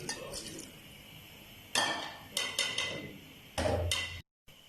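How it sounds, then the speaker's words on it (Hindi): A lid goes onto a cooking pot of chicken and tinda curry, sounding as a few sharp metallic clinks and taps in quick succession, close and fairly soft in a quiet kitchen. "ऊपर ढक्कन लगा दूंगी।"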